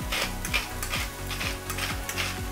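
Vegetables with leek and onion braise in a pan, giving a steady, close sizzle broken by repeated scraping stir strokes about every half second. No one talks.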